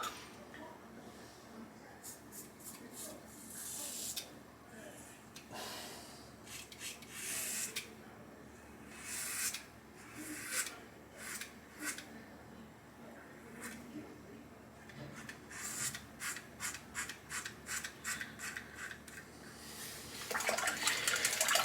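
A razor shaving a head with mango shave cream, repeated faint scraping strokes coming in quick clustered bursts, close to the microphone, with no voices.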